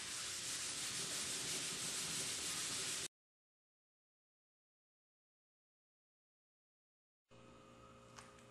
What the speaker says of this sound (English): I'm going to do is sand it till it's not shiny no more